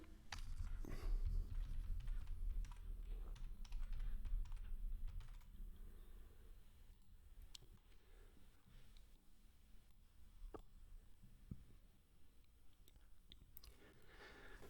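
Someone types a password on a computer keyboard, producing rapid, close key clicks in irregular bursts, heavier at first and then sparser with occasional sharper taps.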